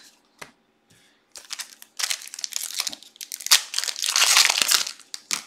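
Foil wrapper of a Pokémon Silver Tempest booster pack crinkling and tearing open up close, starting with a few isolated ticks, then dense, loud broadband rustling and crunching bursts that swell toward the end, with no talking.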